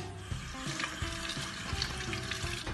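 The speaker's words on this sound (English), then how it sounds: "I think I left the faucet running." Water runs from a faucet left on in a bathroom, a steady broadband hiss and splatter with small gurgles, fairly quiet and constant throughout.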